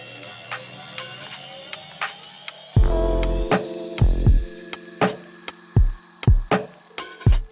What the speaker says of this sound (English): I automated the shift and I automated the washout to actually make a cool transitional effect